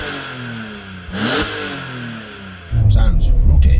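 A BMW M3 engine is revved for a sound check. One sharp rev climbs and falls early on, then a loud, rough idle or burble takes over. A voice is present but no words can be made out.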